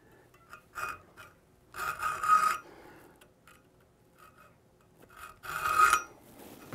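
Hacksaw cutting metal for a compound dovetail joint, several short raspy strokes in two clear bursts separated by quieter pauses, close and alone.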